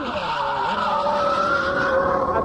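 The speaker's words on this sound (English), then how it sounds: "we've set the Jordan up to be a little bit happy as we go into this right-hander, just to demonstrate how easy it is to spin" A 1999 Jordan Formula 1 car at Silverstone goes into a right-hander under late braking and spins, its loud, high engine note shifting pitch over a continuous tyre screech.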